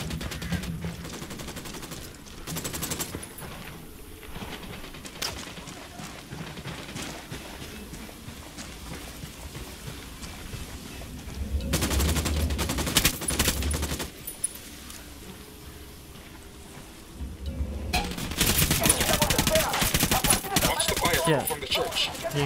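Gunfire in the tactical shooter Ghost Recon Wildlands, with repeated bursts of automatic fire and sharp shots, quieter stretches between louder sustained volleys, and player chatter underneath.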